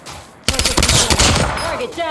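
A sudden burst of rapid automatic gunfire in Call of Duty Mobile erupts after a brief quiet start, loud and sustained, with rattling shots blending into echoing reports.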